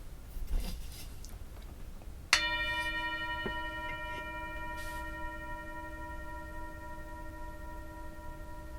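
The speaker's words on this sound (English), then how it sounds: "I'm going to ring the bell." A meditation bell is struck once in a quiet room, giving a bright clear strike followed by a long, slowly decaying ring over faint background hiss.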